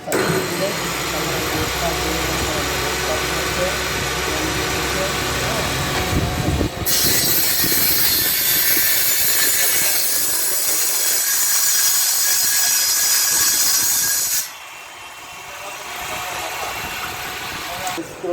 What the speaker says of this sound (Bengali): এটাকে বোর্ড কাটাই মেশিন